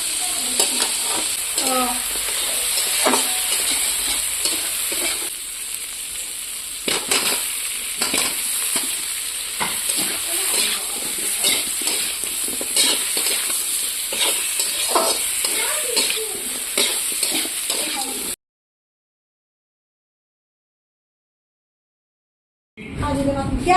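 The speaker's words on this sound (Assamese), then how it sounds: "দুই মিনিটমান সময় ধুনীয়াকৈ ভাজি ল'ম এইখিনি" Steady sizzling and crackling of goat meat frying with spices in a pan, with occasional stirring scrapes, continuous for about eighteen seconds before cutting to silence.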